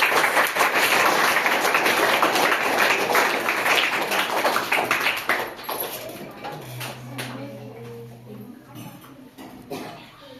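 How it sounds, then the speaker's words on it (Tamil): School audience at a government higher secondary school applauding, a dense burst of clapping for about five seconds that thins into scattered claps, followed by quieter background noise and a faint hum. "ஒரு பெரிய கைத்தட்டு கொடுங்க."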